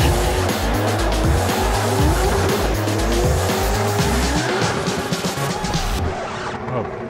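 Race cars drifting in pairs at a Drift Masters final in Riga make loud, sustained engine roar and tire squeal, with a commentator's voice faintly mixed in under the noise.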